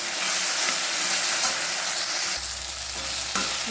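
Tomatoes with salt fry in a pan, giving a steady, close sizzle and hiss with light stirring, and a low hum joins partway through.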